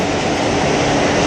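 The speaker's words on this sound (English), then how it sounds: "due to track work, the train's gonna be skipping my stop" Close and loud, a New York-style subway train rumbles along the tracks, a dense, steady roar of wheels and car noise throughout the short stretch, with no voices.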